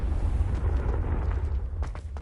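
A Confringo blasting spell explodes in the video game Hogwarts Legacy, a loud, continuous rumbling blast with crackling debris that holds steady throughout, with no talk.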